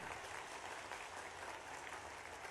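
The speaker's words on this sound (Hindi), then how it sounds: "अरे बजाओ ताली" A large crowd at a public rally in Ghatigaon near Gwalior claps together in a thick, continuous wash of applause, heard from some distance and without pause.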